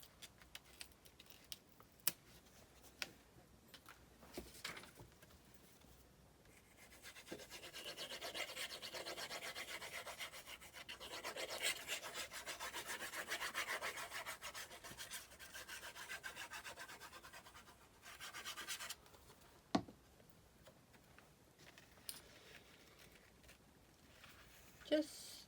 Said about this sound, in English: Going to take my score tape backing off really quick